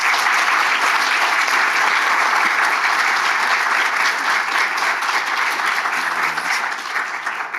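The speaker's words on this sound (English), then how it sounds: "Can we get a round of applause for our guests tonight?" An audience at the National Library applauds its guests with sustained, dense clapping. The applause stays loud and even for several seconds, then begins to taper slightly at the end.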